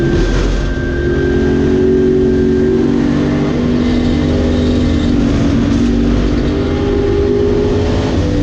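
A Mustang and an Alfa race on an almost dry circuit at the Silverstone Classic, their engines roaring loud and close in a steady, continuous drone without a break.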